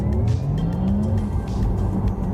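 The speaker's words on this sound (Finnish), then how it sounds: "Nyt koitetaan tehdä tästä tällainen näpsäkkä U-käännös" A Porsche Taycan 4S swings through a quick, tight U-turn, with steady road and tire noise and a faint squealing tone rising and falling throughout, loud and close with no talking.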